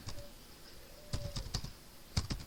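Keys tapped on a computer keyboard during spreadsheet data entry, a few scattered light clicks followed by a cluster of quick presses, close and fairly quiet with no talking.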